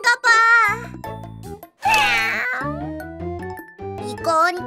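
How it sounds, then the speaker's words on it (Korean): Cartoon cat meowing in a children's animated wolf story, several bright drawn-out meows and caterwauls separated by short gaps, loud and close, with soft musical backing notes underneath. "이건 고양이의 울음소리야."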